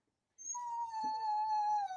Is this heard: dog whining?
yes